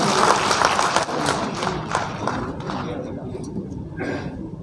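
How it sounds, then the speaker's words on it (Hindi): An audience at a Dr. Ambedkar birth anniversary celebration in Raipur gives a welcoming round of applause. Dense, moderately loud clapping thins gradually over several seconds, with a short burst near the end. "जोरदार तालियों से अभिनंदन करें"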